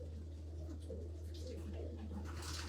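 Racing pigeons in a loft cote softly with low, repeated coos over a steady background hum. The cooing is faint and close, with occasional light chirps and no talking.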